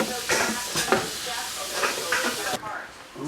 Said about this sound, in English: Turn that heat up, bring this up to a simmer